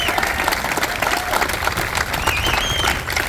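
A crowd applauds Vietnam veterans at a Patriot Tour kickoff ceremony, with sustained, dense clapping at a steady loud level throughout and cheers and whoops rising over it.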